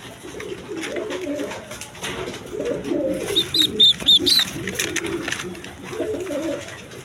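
A pair of young Giribaz high-flying pigeons coo in repeated low, throaty phrases at close range. A few sharp higher chirps break in midway, and faint speech sits in the background.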